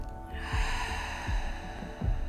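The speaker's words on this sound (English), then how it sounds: "Continue breathing on your own rhythm through the nose, inhaling and exhaling with a sigh." Slow, steady breaths drawn in and out through the nose during a guided breathing practice, soft and close, with three gentle airy pulses over a continuous calm ambient music bed.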